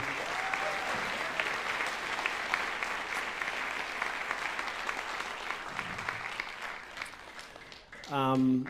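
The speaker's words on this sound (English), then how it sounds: "How about another round of applause for Mr. Cochran's concert band?" Sustained applause from a high school winter concert audience for the concert band fills the clip, with faint voices underneath, then a person begins speaking as the clapping dies down.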